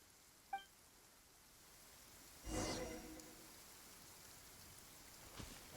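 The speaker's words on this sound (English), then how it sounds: "Why is it raining right now?" Soft rain falls in a video game: a faint, even patter with a brief louder swell partway through and a couple of small clicks.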